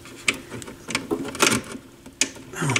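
A flex-head ratchet with a 6 mm socket clicks in short, uneven bursts of mechanical ratcheting, close and fairly loud, working on a TEAC 4010S reel-to-reel deck during a VU meter replacement; no one speaks.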